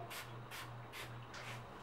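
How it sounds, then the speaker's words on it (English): Four short hissing bursts from an aerosol can of olive oil sheen sprayed onto hair, evenly spaced and close, over a faint low hum. "spray this um, Black Queen olive oil sheen on there, literally just spray, spray"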